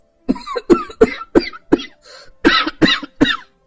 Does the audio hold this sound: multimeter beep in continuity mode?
no